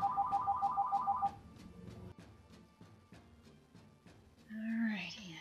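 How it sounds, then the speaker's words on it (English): A phone rings for an incoming call with a quick, bright electronic trill repeated over about a second, followed by quieter tapping sounds and a short rising electronic tone. "whenever I work on a project, I get a phone call."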